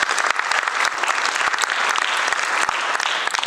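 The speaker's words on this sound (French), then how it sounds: "Est-ce qu'on peut les applaudir, s'il vous plaît?" Wedding guests at the Palais des Congrès in Brazzaville clap for the couple, a steady, close burst of applause with crisp individual claps standing out throughout.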